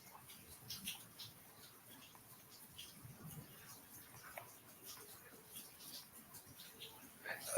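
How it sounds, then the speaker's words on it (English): Rain comes down as a soft, steady patter of scattered drops, faint and continuous throughout with a few slightly louder taps. "Y'all hear that rain coming down?"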